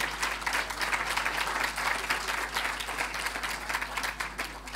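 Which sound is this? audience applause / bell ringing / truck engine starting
audience applause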